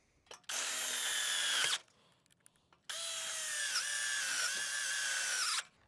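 A power drill drives two screws into the timber frame of a hoop house end wall, heard as two loud, close, sustained whines separated by a short pause.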